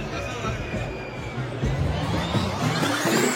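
A huge, dense crowd of pilgrims packs the Jotiba temple during the Chaitra yatra, a steady roar of overlapping voices and babble that swells slightly louder partway through.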